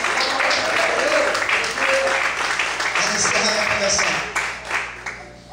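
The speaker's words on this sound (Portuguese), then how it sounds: "Você pode aplaudir e exaltar a Deus" Church congregation claps and praises God during a Portuguese-language sermon, a steady busy wash of clapping with a preacher's voice and cheers mixed in, thinning toward the end.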